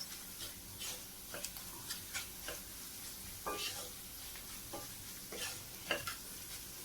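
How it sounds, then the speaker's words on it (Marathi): Garam masala fries in a little oil while a spoon stirs it, making a soft continuous sizzle broken by irregular scraping taps against the pan. "तो पण आपल्याला जरासा तेलात परतून घ्यायचा व्यवस्थित"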